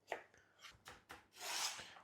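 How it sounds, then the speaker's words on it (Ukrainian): Knife chopping cucumber into small cubes for soup on a cutting board: a few sharp, separate cuts, then a longer scraping rasp near the end, close and clear with no talking. "нарізаємо ось такий дрібний кубик"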